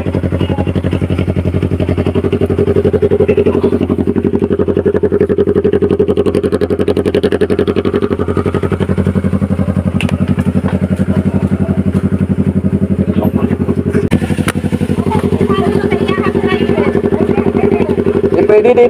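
A motorcycle engine drones loudly and continuously while riding a dirt trail on a communal ranch in Impasugong, Bukidnon, with clattering and occasional thumps from the rough path and faint voices underneath.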